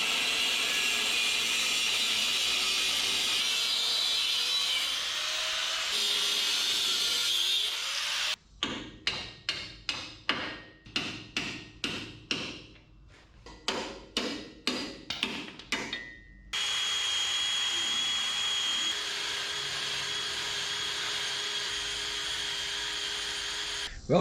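Metal work on a custom hitch build for a 1963 International Loadstar truck. A steady loud tool whine runs alone, then a burst of sharp, rhythmic repeated strikes, then the continuous tool noise returns up close.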